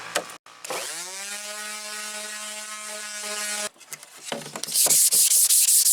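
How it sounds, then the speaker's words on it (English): 220-grit sandpaper is rubbed by hand on car bodywork, starting with a long squeaky rubbing whine and then quick, scratchy back-and-forth sanding strokes close by. "as I'm finishing up the sanding here, getting this all knocked down, this is the 220"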